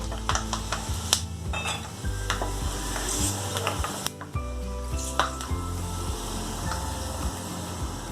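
Coconut slices frying in hot oil in a pan for a spicy creamy coconut chicken curry, a steady close sizzle with scrapes and clanks from a utensil against the metal pan, fairly loud, with a low hum underneath.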